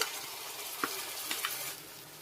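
Masala paste added to onions in hot oil in a kadai fries with a steady hiss, with a few faint stirring clicks over the constant sizzle.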